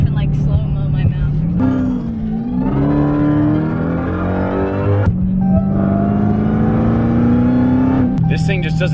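An 800hp Dodge Hellcat roars up through its revs, the loud engine note climbing and shifting as the tires spin, with people talking over it inside the car.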